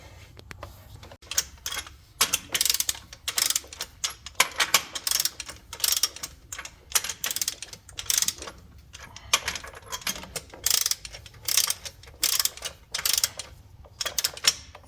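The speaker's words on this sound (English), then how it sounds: "Now I'll get the torque wrench and run them in" A torque wrench ratchets as rod bearings are run in on a Cummins NT855 Big Cam engine in a Peterbilt, giving repeated bursts of quick metallic clicking separated by short pauses, close and moderately loud.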